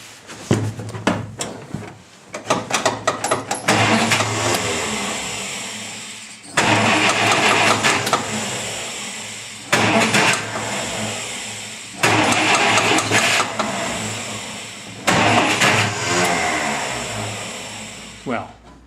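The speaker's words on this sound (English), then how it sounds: "So I'll just start it up now and see what it sounds like." A WW2 six-wheel jeep engine cranks and fires several times in a row, each attempt catching into a rough, loud running burst before dying away, with short gaps of cranking between starts.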